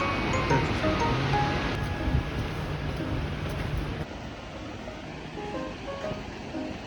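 Steady broadband rush of the Shiraito waterfall in Shizuoka, Japan, a continuous close roar of falling water that dips slightly partway through and then carries on evenly, with no one talking.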